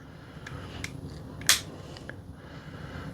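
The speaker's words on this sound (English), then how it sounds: "Lots of satisfying clicks with this transformation" A Transformers Legacy Jazz toy figure's plastic parts snap into place: a few small, crisp clicks, one sharp and louder near the middle, the others faint, against a quiet room with no talking.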